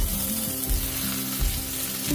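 Fried potatoes hit a hot pan of oil with curry leaves for spicy semolina upma and are stirred, giving a steady close sizzle with scraping spoon strokes and no talk.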